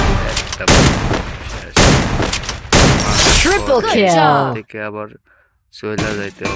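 Gunfire rings out in the Free Fire battle royale game as loud, rapid bursts of shots, partly overlapping with a player talking over the action.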